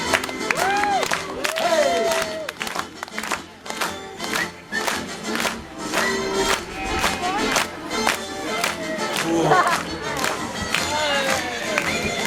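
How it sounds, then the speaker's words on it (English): At a sheep show, an audience claps and cheers for a horned ram, with bursts of clapping and whoops mixed with lively voices and laughter, strong and close, rising and falling through the stretch. "let's have a big clap for him"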